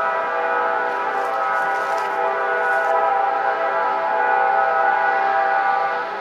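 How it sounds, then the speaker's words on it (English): A train's horn blows long and loud beside the railway tracks in Hamtramck, Detroit. It is one unbroken, blaring harmonic blast that holds for over six seconds with no voices. "Can you hear the whistle blow?"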